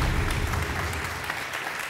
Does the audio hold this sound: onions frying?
no